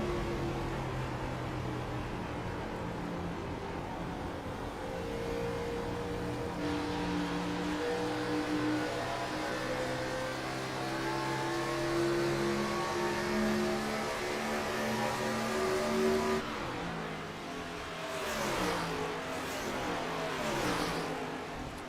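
Race cars, Gen 4 stock cars, lapping the oval at Homestead-Miami, a continuous layered engine drone with rising and falling tones as cars pass, heard alone without talk.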